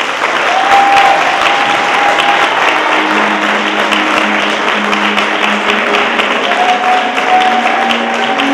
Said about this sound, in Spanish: este aplauso muy fuerte es para Helga.